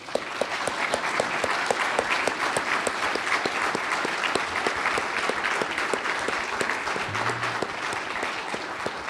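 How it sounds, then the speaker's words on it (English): An audience applauds Ambassador John Limbert at an evening welcome event, a sustained burst of dense clapping that stays loud and even throughout, with no talking over it. "I thought we might give him a round of applause."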